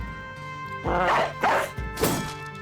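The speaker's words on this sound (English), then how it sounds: "Release a war dog." A war dog in the video game Battle Brothers gives three loud, rough barks in quick succession over a steady background hum.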